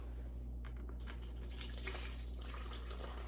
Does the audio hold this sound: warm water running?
yes